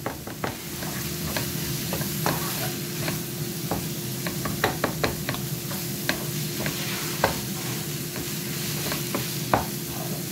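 Ingredients being mixed and broken up roughly in a pan, with scraping, clinking stir strokes at irregular intervals over a soft, steady sizzle and no talking.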